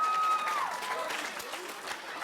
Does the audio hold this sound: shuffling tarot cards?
no